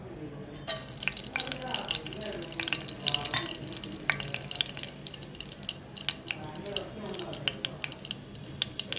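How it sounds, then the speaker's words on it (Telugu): Small onions hit hot oil and fry with a crackling sizzle, joined by scattered clicks and scrapes of a utensil, close but moderately quiet, with a voice talking softly at times. "చిన్న ఉల్లిపాయలు వేసుకుంటున్నాను."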